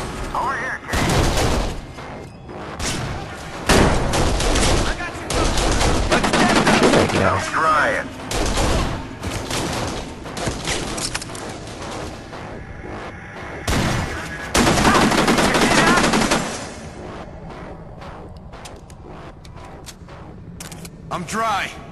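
Rapid bursts of gunfire in the shooter game Kane and Lynch: Dead Men, loud and dense in clustered volleys with brief gaps, mixed with in-game voices and chatter.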